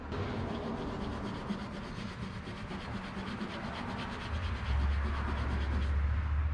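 A brush and gray Scotch-Brite pad scrub a whitewall tire, giving a close, steady gritty rubbing that grows heavier and lower near the end, with no voices.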